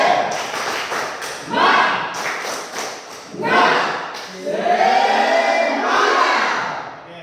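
A classroom group performs the rhythmic 'tepuk semangat' clapping chant, bursts of patterned claps alternating with loud shouted chanting voices, several phrases in a row, close and lively.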